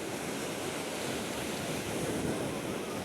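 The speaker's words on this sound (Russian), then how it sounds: "волны перемалывают песок и вот это все выбрасывает" Sea waves rolling onto a dark sand beach on a breezy sunny day, a continuous loud roar of surf with wind buffeting the microphone.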